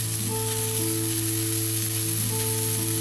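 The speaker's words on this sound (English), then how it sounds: "I am just searing it on the edges" Steak searing on its edges in a hot pan on a stove, a steady close sizzle with frying crackle that continues without a break, alongside a constant background hum.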